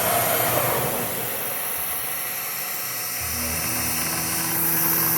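ShopSabre CNC router cutting plastic, a loud steady high-pitched whine of the spindle with a harsh broadband grind, shifting slightly in tone partway through as the cut continues.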